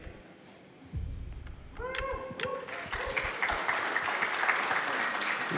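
Audience applause from a video game's ending sequence, a dense broadband patter swelling in after a quiet start and building steadily louder, with faint musical tones and voices mixed in.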